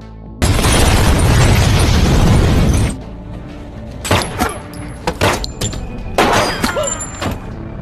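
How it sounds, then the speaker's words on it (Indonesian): A bomb planted inside a Yakuza hideout detonates in an action film: a loud, sustained roaring blast of about two and a half seconds, followed by several sharp crashes and rumbling bursts of debris. "Setelah itu, Mark meledakkan bom"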